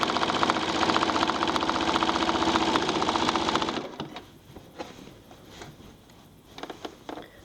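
Sewing machine stitching a quilt with a rapid, steady mechanical whir and needle rhythm for several seconds, then stopping, leaving light handling clicks and fabric rustle.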